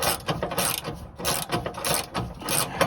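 Ratchet wrench loosening a nylon lock nut on a Subaru Crosstrek exhaust, a fast run of repeated clicking bursts in an even rhythm, close and fairly loud with no talk.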